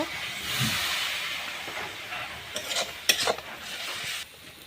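Water is sprinkled into a frying pan of turmeric-spiced karkol stuffing, giving a broad, continuous hiss of sizzling up close. A few sharp spatula scrapes and clinks come near the end.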